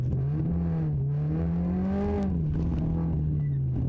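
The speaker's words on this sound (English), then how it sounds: "now's when we'll start the drifting section. Nice and smooth, clutch kick it." A car engine revving during a clutch kick while drifting, droning steadily close by with the pitch swelling upward and then easing back, continuous without pauses or speech.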